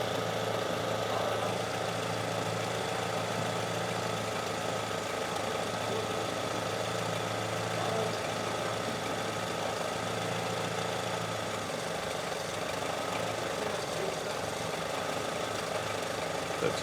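A classic Mini or Riley Elf engine runs steadily in a workshop during tuning, a close, continuous droning hum with little change in pitch across the whole stretch, more like a held idle than a clear climb through the revs.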